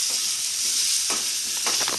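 Potatoes frying in a pan for a Bengali-style soybean dish, a continuous bright sizzle with a couple of soft stirring strokes near the middle and end.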